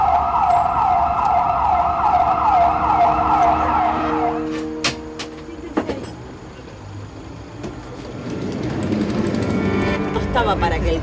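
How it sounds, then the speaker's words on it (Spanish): An ambulance siren wails loudly in a rising and falling pattern during a police roadside stop, then cuts off as the vehicle passes, leaving traffic rumble and other vehicles behind. "Ahí viene la ambulancia."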